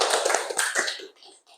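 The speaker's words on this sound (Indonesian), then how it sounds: "Ya, bagus, tepuk tangan." Classroom applause from students, a short burst of many hands clapping that fades out after about a second, with a few scattered claps trailing at the end.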